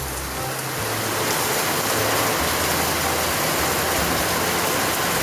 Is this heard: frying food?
no